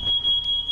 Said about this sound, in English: Sorry about the fire alarm